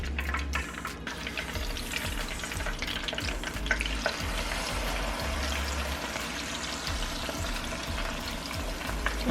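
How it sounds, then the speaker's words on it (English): Pork chops frying in hot grease for a Chicago-style sandwich produce a steady, fairly loud sizzle with continuous crackling and occasional bubbling pops, with no talking. "So we're gonna put this we're gonna put these pork chops in our grease."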